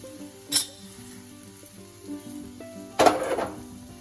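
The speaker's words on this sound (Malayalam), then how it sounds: "ഇനി ഇതിലേക്ക് നമുക്ക് വറുത്തിട്ട് കൊടുക്കാം." Brief hot-oil sizzles for the tempering of a coconut thoran, two short bursts over steady background music.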